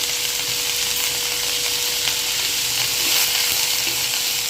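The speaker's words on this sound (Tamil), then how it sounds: "வெங்காயம் நல்லா வதங்கி கோல்டன் ப்ரௌன் வர வரைக்கும் வெயிட் பண்ணலாம்" Onions with a little salt fry in a pan for prawn gravy, giving a dense, even hiss of sizzling oil, loud and close, with a faint steady hum beneath and no voices.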